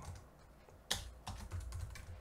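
Typing on a computer keyboard, with quiet, close, irregular key clicks and one sharper stroke partway through.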